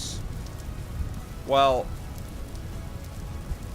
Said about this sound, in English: I want to hear that rain, too.